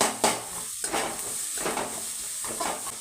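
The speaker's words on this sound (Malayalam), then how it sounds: "ഉള്ളി നന്നായി വതക്കിട്ടോ" Onions sautéing in a pan, a soft continuous sizzle broken by several stirring scrapes of a spoon against the pan at an uneven pace, fairly quiet and without talk.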